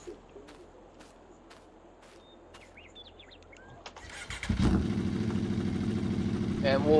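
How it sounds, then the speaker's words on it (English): A motorcycle in Farming Simulator 22 starts up partway through after faint bird calls, then settles into a loud, steady idle. "we'll jump on the motorcycle here a little bit"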